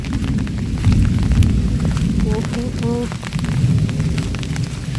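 Steady, dense rainfall patters all around, loud and continuous, with a brief voice heard faintly midway.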